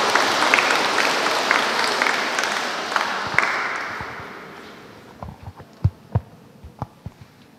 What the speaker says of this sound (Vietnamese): Chúng ta cùng nổ một tràng pháo tay để chào đón.